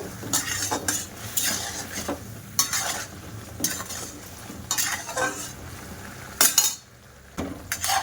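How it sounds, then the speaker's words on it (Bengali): Flour-based sweets stirred through sticky sugar syrup in a pan, a spoon scraping and clinking against metal in repeated close strokes with a soft sizzle beneath. "তো এবার আমি মিষ্টিগুলো দিয়ে দেব, দিয়ে ভালো করে জাল করে নেব।"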